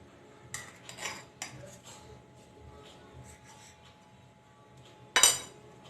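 A knife and plate clink several times as soft sponge cake is cut and served, with a louder clatter of cutlery on a dish near the end.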